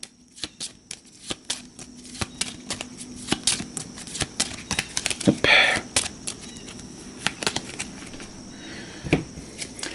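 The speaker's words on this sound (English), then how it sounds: "let's give this a shuffle" A deck of board game cards for a cooperative boss-battle game is shuffled by hand, with rapid riffling flutters and light card taps in repeated bursts over a quiet room.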